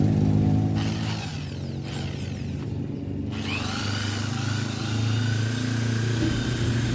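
A steady, grinding whir of an electric drill spinning a steel wire brush in a motorcycle workshop, running continuously with rasping scrapes against metal, close and fairly loud.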